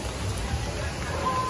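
Rain falls steadily outdoors at a recreation park in Malang, a soft, faint continuous patter with no speech.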